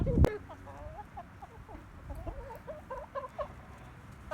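Faverolles chickens cluck softly in scattered short calls, near but quiet, with a sharp knock at the start and light rustling.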